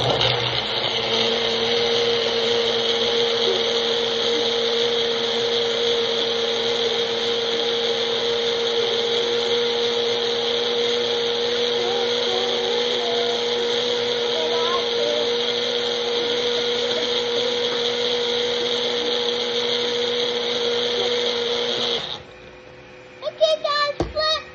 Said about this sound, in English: Now let's blend this up.